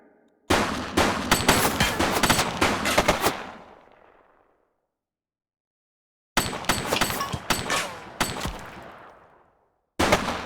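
Sustained bursts of automatic gunfire from The Precinct police game, two long loud volleys about three seconds each with ringing decay and a clean silence between, then a third burst starting at the end.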